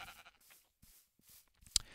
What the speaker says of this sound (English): hear the sounds of the sheep and things